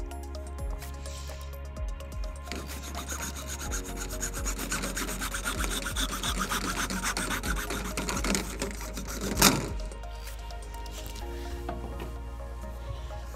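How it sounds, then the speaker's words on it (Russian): A 63 mm spiral-wound SSD-Pipe plastic pipe is cut to about half a metre. The fairly quiet, close, repeated rasping saw strokes build in intensity, with a sharper crack near the end. "Мы отрезали примерно 50 сантиметров 63-й трубы"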